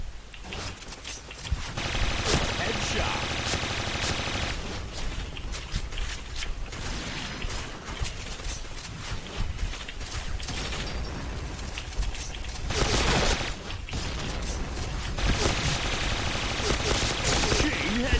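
Gunfire and explosions in the Point Blank shooting game: bursts of rapid automatic fire and single shots with mechanical clatter, loud and dense, with a brief pause near the middle and a player talking at times.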